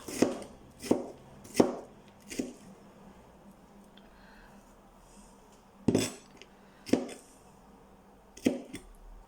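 Knife chopping onions on a cutting board, sharp thuds in short bursts of two or three quick strikes separated by pauses, close and clear with no voices.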